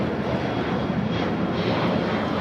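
A United Airlines jet takes off at LAX, its engines a steady, loud broadband roar that holds without a break, with no voices over it.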